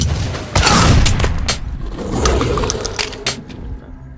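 Gunfire in the video game Metro: Last Light comes as a close, loud burst of rapid shots with booming impacts, then several scattered single reports that fade out.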